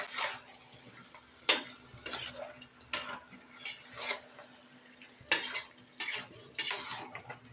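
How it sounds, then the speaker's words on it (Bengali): Shimul kata fish being stir-fried in a pan, with repeated rhythmic bursts of spatula scraping and clattering against metal over a faint sizzle, close and fairly loud. "মাছটাকে আমি ভালো করে কষিয়ে নেব।"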